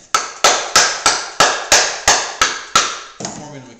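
Wooden pieces of a half-lap dovetail joint knocked together, giving about nine sharp, evenly spaced woody raps at a steady rhythm, each with a short decay, loud and close.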